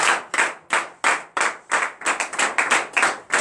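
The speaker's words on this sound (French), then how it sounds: "donner une vive acclamation à l'Éternel" A church congregation at a morning prayer service in Benin claps in acclamation, with about a dozen loud, sharp bursts of clapping in an uneven rhythm, close and without talk.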